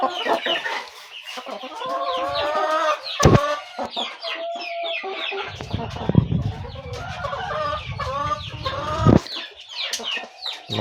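A flock of Aseel and broiler chickens clucks and calls almost continuously at close range, with overlapping harmonic squawks, sharp bursts and a stretch of scratchy rustling in the middle.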